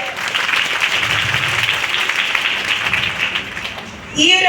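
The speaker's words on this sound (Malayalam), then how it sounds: "മാമിന് ഒരു നല്ലൊരു കയ്യടി ആവട്ടെ" An audience claps for a woman receiving an award for hygiene awareness programs: dense, sustained applause for about four seconds, then a voice breaks in as it fades.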